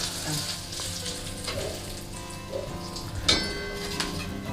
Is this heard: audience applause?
no